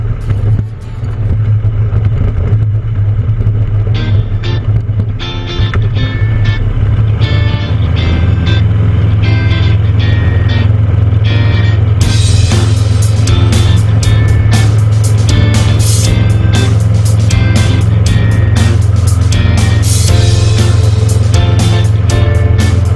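A tail dragger aircraft engine drones loud and steady at about 1500 RPM on a crosswind landing approach at Tauranga Aerodrome, New Zealand, with rushing wind noise and rattling layered over the constant engine tone.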